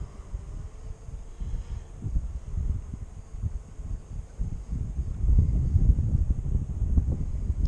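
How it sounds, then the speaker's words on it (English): Gusty wind buffets the microphone outdoors on a windy day near a cemetery, a low rumbling roar that swells and strengthens toward the end, with no talking. "I didn't think it was this windy when I left my house."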